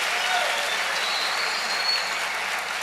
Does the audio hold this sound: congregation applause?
yes